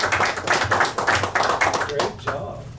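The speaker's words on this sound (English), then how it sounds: "Let's have applause." Applause for 4-H leaders at a community meeting, a small group clapping in uneven bursts that thin out and fade near the end, with talk mixed in.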